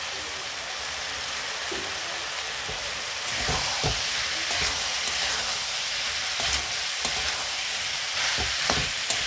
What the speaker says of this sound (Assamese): এতিয়া মই বুট আৰু আলুখিনি মছলাৰ সৈতে ভালকৈ ভাজি ল'ম